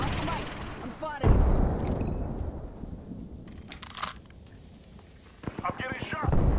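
Gunfire in the battle royale game Apex Legends: a few sharp shots and short bursts scattered through the stretch, heavy impacts near the start and a clustered volley near the end, mixed with squad chatter and game effects.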